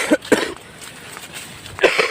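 Several short, sharp coughs: a pair close together near the start, then another burst after a quiet pause, loud and close by.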